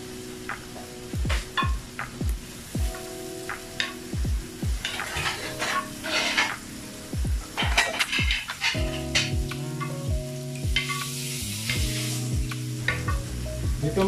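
Liver tipped into a pan of spicy mixed seafood with Cajun sauce sizzles loudly while a utensil stirs and scrapes in repeated bursts, with clanks of metal on the pan throughout.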